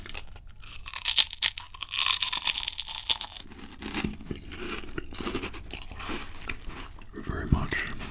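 Crunchy Chinese chicken eaten up close in an ASMR setting: loud bites, crisp crunches and wet chewing come in irregular bursts, with soft talking faintly beneath at times.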